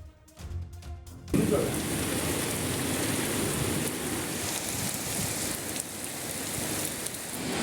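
Heavy rain pours down at night in a dense, steady roar that swells in after a brief quieter opening and keeps up without pause, close and loud.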